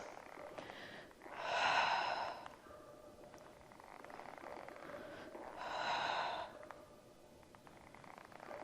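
Two long, audible breaths during a Pilates exercise on a tower apparatus, each swelling and fading over about a second, spaced several seconds apart over a steady low room hiss; no talking.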